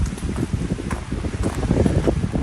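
Strong wind buffets the microphone on the summit of Clingmans Dome in the Great Smoky Mountains, a loud continuous rumbling roar with gusty swells and no talking.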